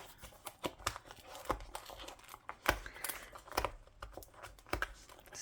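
Plastic packaging of a partial-drill crystal diamond painting kit crinkles and tears in close, irregular bursts, with quick crackles and rips scattered across a quiet background.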